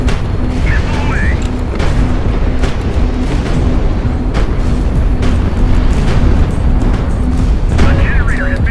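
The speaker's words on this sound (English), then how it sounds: "Missile launched." A missile launches from an armed airship in the game Highfleet, a dense, continuous low rumbling roar with repeated booming hits, loud and close, while a voice speaks over it at times.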